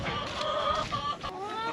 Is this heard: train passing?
no